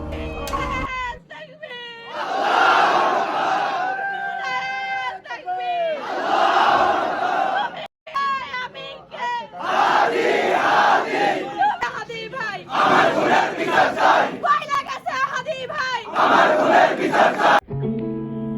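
A large crowd chants a political slogan in loud, rhythmic call-and-response waves of many voices. The chant pauses briefly between phrases and keeps going strongly throughout.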